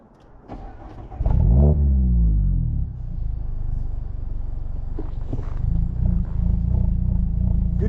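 A car engine cranks and catches, then revs sharply and settles into a steady, close idle with a few more blips of the throttle, with no talking over it.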